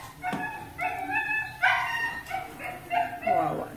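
A dog tied up in a corner whimpers and yelps in a string of short, high, wavering cries, fairly close and fairly quiet, with a few breaks between them.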